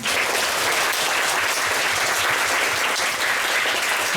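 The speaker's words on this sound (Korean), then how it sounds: "우리 모두 박수로 마치도록 하겠습니다." Applause from a crowd of children, parents and teachers closing a children's national assembly committee meeting, steady and dense throughout, fairly loud, with no talk.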